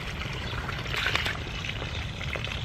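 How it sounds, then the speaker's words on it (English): Clear rinse water runs steadily through a batch of brass cartridge cases in a Frankford Arsenal cleaning setup, a continuous trickling pour with a brief swell in the middle, heard alone at moderate level. "So pretty important you make sure you get clear water running through here."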